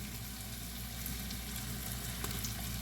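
Chopped onions fry in a hot pan, giving a steady, close, continuous sizzle and crackle with no talking.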